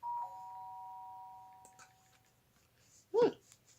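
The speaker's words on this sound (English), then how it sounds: "The sound of the doorbell forced its way into my room." A doorbell chime rings in the video game Danganronpa, a clear sustained tone that slowly fades, followed by a short voice sound near the end.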